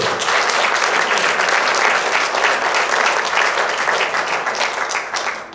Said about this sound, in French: Vous pouvez l'applaudir à Jonathan, parce que c'est pas facile